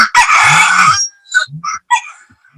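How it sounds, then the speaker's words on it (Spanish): A rooster crows loudly and close by in one long call of about a second, followed by a few shorter clucking or crowing bursts. It carries over the background of a Spanish-language legal commentary broadcast. "hasta gallos tienes ahí, qué barbaridad"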